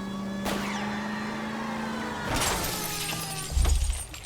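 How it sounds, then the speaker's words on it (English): Shots burst a fleeing car's tires in the video game LA Noire, sharp cracks and a shattering crash over a steady droning engine, with a heavy low thump near the end. "Keep it steady and I'll try to bust his tires."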